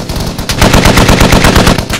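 Rapid, loud .50 cal machine gun fire from the video game Squad, a steady rattling burst that starts abruptly and runs nearly unbroken for about two seconds.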